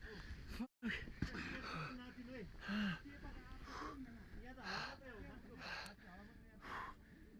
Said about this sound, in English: The men cough and gasp for air.